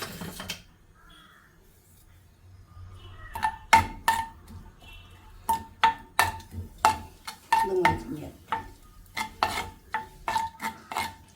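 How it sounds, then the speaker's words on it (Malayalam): Chopped garlic and ginger stirred in a pan for Schezwan sauce, a spatula scraping and clinking against the metal in a steady run of sharp strokes that begins after a few quiet seconds and continues close and clear. "വെളുത്തുള്ളി, അത് നന്നായി ഇളക്കിയെടുക്കുക."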